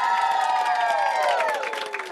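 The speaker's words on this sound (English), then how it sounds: "Give her a round of applause." Schoolchildren at Arthur Bugler School in Thurrock, Essex, applaud and cheer a children's author during a World Book Day event, a dense crowd roar layered with ringing tones that fades slightly toward the end.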